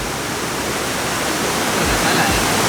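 Waterfall on San Miguel island in the Azores, a steady broadband rush of falling water heard up close, continuous and fairly loud throughout with a few low thumps near the end.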